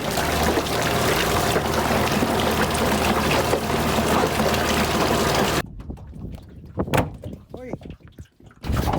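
Steady, loud rush of waterfall water pouring through a hose into a bucket for several seconds, then it stops, leaving a quieter stretch with faint drips and a few knocks.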